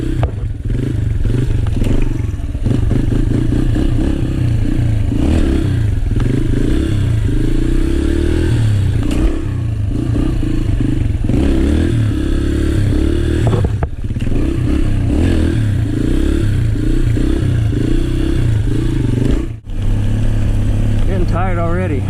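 A motorcycle engine runs steadily throughout wheelie practice, its loud, continuous drone rising and falling with throttle changes, with a brief dip near the end.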